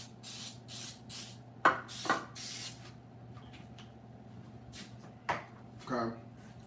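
Short bursts of cooking spray hiss repeatedly in quick succession onto two 9-inch cake pans, followed by a few clinks and light knocks nearby.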